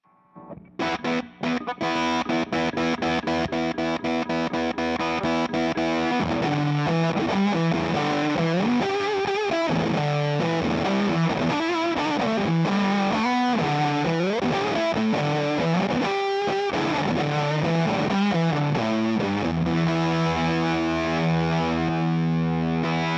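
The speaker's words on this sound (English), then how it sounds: "I'm going to switch the Axis on so you can kind of hear the difference between the two." An electric guitar played through an Axis fuzz pedal gives a thick, gnarly distorted tone: strummed chords and sliding, sustained notes ring loud and continuous with no talking.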